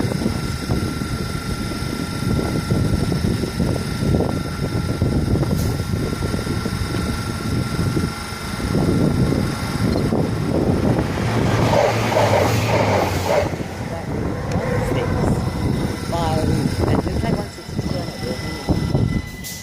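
A Great Western Railway service from Oxford and London Paddington rolls through Southall station on the Great Western Main Line, a loud, continuous roar that swells around the middle and eases off, with a voice at times over it.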